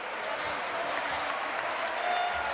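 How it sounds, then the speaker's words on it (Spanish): A basketball arena crowd applauds a player leaving the court, a broad continuous wash of clapping filling the hall at steady volume, with a commentator's voice faintly mixed underneath. "aplauso unánime del pabellón a Javi Soler"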